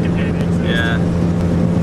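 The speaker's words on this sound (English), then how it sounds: "you may be able to hear the exhaust is busted" A car with a busted exhaust on a rough road toward Kazakhstan during the Mongol Rally, its engine droning loud and rough throughout, with voices talking over it.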